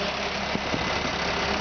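Diesel engine of a GMC TopKick C7500 4x4 bucket truck runs at a steady, loud, raised drone as its automatic rev-up holds the speed up, with no talking over it.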